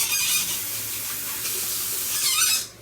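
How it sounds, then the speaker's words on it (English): A kitchen tap runs as a bowl is rinsed out, giving a steady, close hiss of splashing water that swells near the end before cutting off abruptly. "let's rinse this out real quick"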